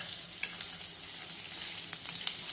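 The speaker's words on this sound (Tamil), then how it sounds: "தேங்காய் கூட வணக்கிட்டு வணக்கணும். ஸ்லிம்மில் வச்சு வணக்குங்க." Grated coconut fries and is stirred in a pan over low heat, a steady close sizzle broken by soft scraping and clicking stirs, with no talking.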